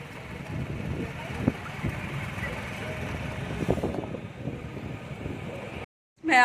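Wind and road noise while riding a motorbike in the evening, a steady close rumble and rush that drops out briefly near the end.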